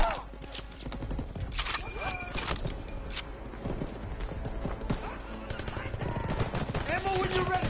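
Call of Duty: WWII combat with a mounted machine gun and rifles cracking in rapid bursts, dense overlapping gunfire that is loud and close, with soldiers shouting over the battle.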